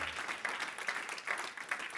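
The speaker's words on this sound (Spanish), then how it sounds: "denle fuerte ese aplauso al Señor" Church congregation clapping during a sermon, fairly faint and quick-paced, with rhythmic bursts of hand claps repeating under a roomy wash.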